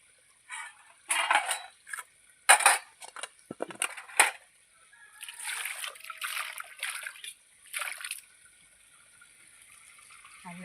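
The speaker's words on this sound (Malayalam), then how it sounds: "ഇവിടെ പാത്രം കഴുകുമ്പോൾ" Dishes, including ones used for a fish meal, are rinsed and scrubbed with soap under running water outdoors, giving irregular close splashes and clinks in short bursts with quiet pauses between.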